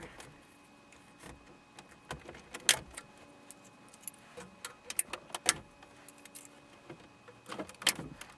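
Keys jangle in several sharp, metallic bursts spread across the clip during removal of a car stereo from a 2004 Volkswagen Jetta, close and fairly loud against a quiet background.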